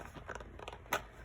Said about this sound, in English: take my scissors and cut it out.